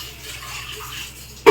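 Water poured and sloshed for rinsing in a home kitchen, a low steady watery rush that ends in a sudden louder splash, close by.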